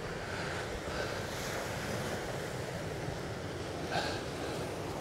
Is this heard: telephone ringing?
no